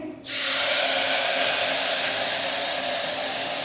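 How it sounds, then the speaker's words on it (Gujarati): Cumin and asafoetida hit hot oil as tempering for a leafy vegetable curry, bursting into a sudden loud hiss that holds steady and close, alone with no talk. "તો આપણે આ શાક વઘાર લઈએ।"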